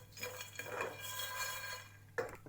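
Whole spices such as star anise, black cardamom and cumin dry roasting in a pan, heard as close, rustling scrapes and light rattling as they are stirred, with a sharper clink near the end.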